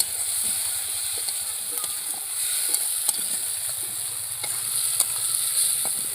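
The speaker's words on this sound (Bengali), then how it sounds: "মশলাটা পুড়ে যাচ্ছে, আমি কষিয়ে নেব। একটু জল দিয়ে দেবো।" Spice masala for a green banana kofta curry sizzles and spits in a pan as water is added during sautéing, a steady frying hiss with scattered sharp crackles and pops throughout, close and fairly loud.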